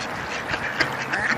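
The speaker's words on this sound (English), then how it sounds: "So many ducks." Ducks quacking at a park where people are feeding them, a short burst of several nearby quacks under a person's voice.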